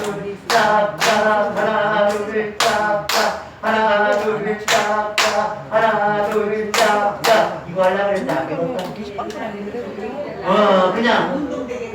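Hands clap in a steady rhythmic pattern during a seated recreation fist-and-clap game for seniors, with sharp repeated claps in pairs and groups, loud and close, while voices talk and count along throughout.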